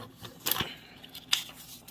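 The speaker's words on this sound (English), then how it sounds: "Probably shouldn't be doing this with scissors because I can't cut straight for the life of me." Scissors snip through paper while a junk journal is being made, giving two sharp, close cutting bursts with faint crinkling between them, with no one talking.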